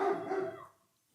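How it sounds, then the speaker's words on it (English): A dog gives a short, close burst of barking that fades out quickly, with no voices. "The dogs."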